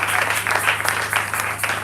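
A church congregation at a worship service claps in a loud, continuous burst with a rhythmic pulse, filling the room for a couple of seconds.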